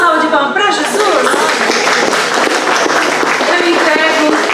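An audience in a church lecture hall applauds for Jesus, with steady, dense clapping that holds for several seconds and voices mixed into it.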